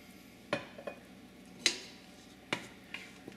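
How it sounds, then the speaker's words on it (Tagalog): A spoon stirring sinigang na baboy with gabi in a pot, a few sharp clinks against the metal spaced out over a faint background simmer, with no one talking. "hahaluin lang natin ito"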